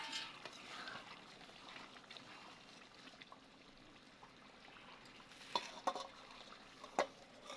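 Fried potatoes tip into a pot of Bengali jackfruit and meat curry, giving a faint stirring, scraping rustle with a few sharp clinks of a utensil against the pot near the end.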